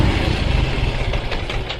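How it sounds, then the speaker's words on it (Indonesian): A rough, uneven idle from the engine of an automatic scooter that had been in a flood and struggles to hold its idle, rumbling steadily and close up with no talk. "Suara mesin kasar."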